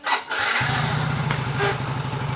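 A Yamaha Mio J motorcycle with a stalling fault starts up: a short starter whir catches into an engine that settles straight into a steady, close, loud idle.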